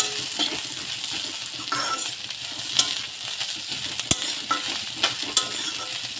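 Brinjal pieces frying in oil in a pan, a steady sizzle broken by occasional sharp clinks and scrapes as a spoon stirs them, no voices.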